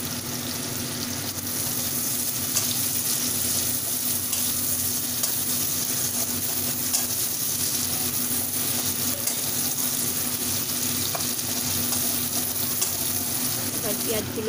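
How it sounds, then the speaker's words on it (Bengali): Chopped onions fry in hot oil in a home kitchen, giving a steady, loud, close sizzle that holds evenly for the whole stretch with faint stirring underneath. "পেঁয়াজগুলো একটু হালকা হালকা করে ভেজে নেব লাল লাল করে।"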